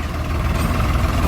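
Two tractors, a Farmtrac 60 and a Swaraj 855, run in a farm pulling contest, their heavy diesel engines roaring steadily and loudly up close with no pause.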